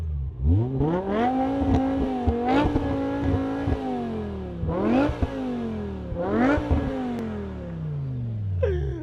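A V10 car engine revs hard several times at close range, each blip rising sharply in pitch and then falling back to a rumbling idle.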